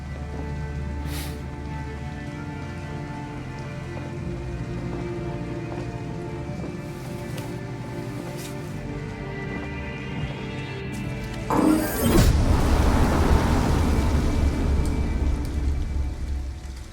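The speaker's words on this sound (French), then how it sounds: "il pleut des cordes" Heavy pouring rain in the video game Detroit: Become Human, a steady loud wash of drops that thickens and grows louder partway through, with no voices over it.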